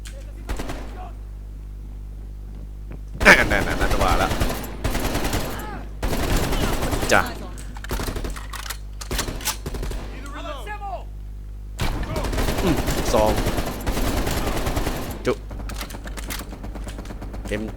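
Gunfire in the Call of Duty Black Ops Cold War campaign on its hardest difficulty, with sharp bursts of shots in clusters separated by quieter gaps, over a steady low game hum and with speech in places.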